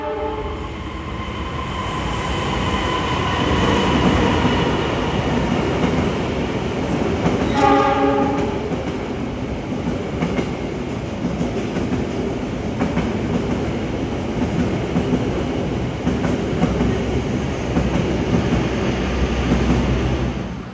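The Malabar express train rumbles steadily through an Indonesian station without stopping, with a brief horn blast partway through and continuous wheel and carriage noise.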